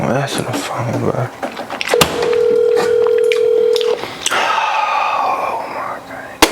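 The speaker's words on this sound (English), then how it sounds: "Answer the phone, bro." Telephone dialing tones and a steady dial tone from a phone in a kitchen, with a person talking and whispering over the tones and fridge-door sounds in between.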